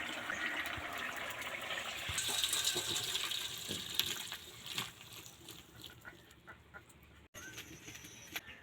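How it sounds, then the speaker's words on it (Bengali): A kadai (wok) is washed under a running tap, with water gushing fairly loud at first, then easing into softer splashes, trickles and a few light knocks of the pan. "কড়াটা ধুয়ে পরিষ্কার করে নিয়েছি।"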